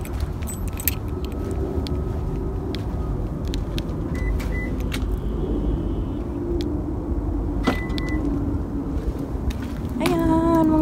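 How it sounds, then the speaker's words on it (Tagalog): Engine of an employer's car in Kuwait idles with a steady low rumble, punctuated by small clicks, a jangle of keys and a brief electronic chime near the end, close by with no talking. "Ito yung sasakyan ng amo ko."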